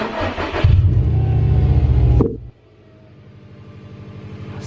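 Car engine after a DEFI boost and oil pressure gauge install, running loud and close with a strong rev, then dropping abruptly to a quieter idle that gradually builds again.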